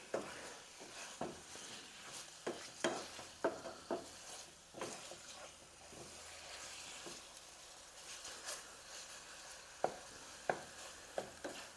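Lamb pieces browning in a pan for a vindaloo: steady frying sizzle with frequent sharp stirring scrapes and clatters against the pan, close and fairly loud, with no talking.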